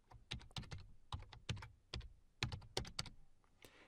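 Rapid bursts of computer keyboard keystrokes as a PowerShell command is typed, clicking in irregular clusters with short pauses between groups, close and fairly quiet with no talking.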